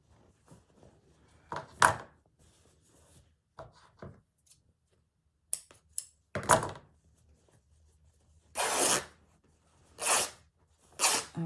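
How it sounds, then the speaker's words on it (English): Scissors cut a strip from a sheet of Atelier Des Arts art journal paper in a few separate rasping strokes, with pauses and light handling noises between them, close and fairly quiet. "Now I'm just going to cut a piece"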